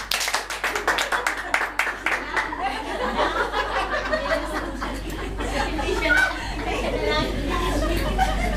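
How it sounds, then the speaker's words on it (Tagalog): A church congregation claps: a quick run of sharp handclaps comes first, then gives way to murmured chatter and scattered laughter from the crowd. "Isang malakas na palakpak na sa Panginoon!"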